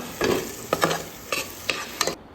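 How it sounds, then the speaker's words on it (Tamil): Mutton biryani masala stirred and sautéed in a pan, a steady sizzle broken by several sharp scrapes of a spoon against the metal, close and alone with no voices. "இந்த மாதிரி நல்லா வந்து வதக்கி விடணும்"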